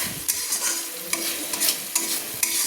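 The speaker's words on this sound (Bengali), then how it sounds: "দিয়ে ভালো করে একটু মশলার সঙ্গে নেড়ে নিচ্ছি।" Cashew paste is stirred into sizzling spices in a pan for chicken do pyaza. A spoon scrapes in repeated rhythmic strokes over a constant, close frying hiss, with no talking.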